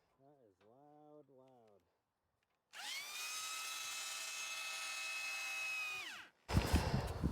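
A power drill spins a cleaning rod inside the tubes of an Aspen 175 outdoor wood boiler, a loud, steady whine that holds for several seconds, then stops, followed by a scraping rattle. A voice is heard briefly beforehand.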